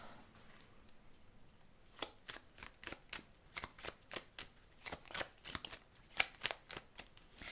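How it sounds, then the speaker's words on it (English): Tarot cards shuffled close by, starting softly, then a quick regular run of sharp riffling flicks, quiet and alone without talk. "So let's pull the final set of cards."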